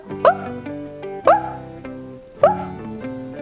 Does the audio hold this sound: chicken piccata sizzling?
no